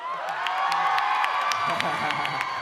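An Indonesian TV studio audience at the Dahsyat show cheers, whoops and claps for Pasto, a lively crowd roar with sharp bursts of clapping throughout. Shouting voices mix into the din.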